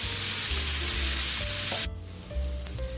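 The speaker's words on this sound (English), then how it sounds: "2 onions sliced and 2 cups of carrots sliced. And we're going to cook these for about 10 minutes until they're tender over medium heat" Sliced onions and carrots cooking in a pot over medium heat produce a loud, steady hiss that suddenly drops to a quieter sizzle, followed by a brief stir or clink.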